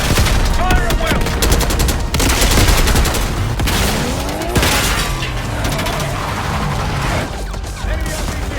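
Intense gunfire during a palace assault in the video game Black Ops 6, continuous loud automatic bursts with cracking shots and explosions, with shouted voices underneath throughout.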